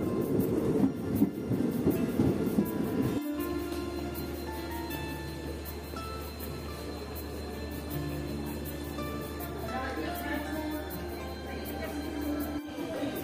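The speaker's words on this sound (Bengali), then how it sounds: "নির্ধারিত সময়ে ট্রেন স্টেশনে প্রবেশ করেছে।" Garib Rath Express pulling into Kharagpur Junction, a low continuous rumble of the train with a steady drone and faint clatter, fairly quiet and distant-sounding, with no clear talk.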